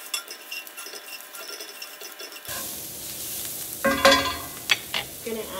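Onions seasoned with salt and pepper sizzle steadily in a pan, joined after a quiet start by scraping stirs and a few sharp clinks of a utensil against the pan.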